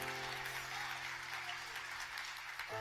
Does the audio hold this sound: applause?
yes